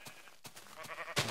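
Two or three short Minecraft sheep bleats in quick succession, fairly quiet, with a brighter burst of noise near the end.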